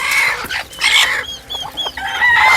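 Black-and-white and crested chickens cluck close by in quick, repeated bursts, with a rooster-like call rising among them.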